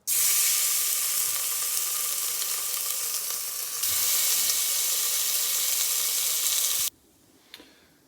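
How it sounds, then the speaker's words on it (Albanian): Large chunks of pancetta frying in oil in a cooking pot, a loud, steady sizzle that flares briefly and then cuts off abruptly near the end, leaving faint kitchen noise. "fillimisht pas një lloj vaji do vendosim copat e mëdha që ti skuqim e ti thekerisim mirë"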